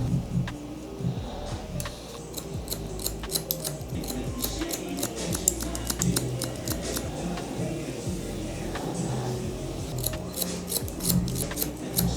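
Barber scissors snip rapidly and repeatedly through hair during a low taper brush back haircut, a dense run of crisp metallic clicks with a steady low background hum and no talking.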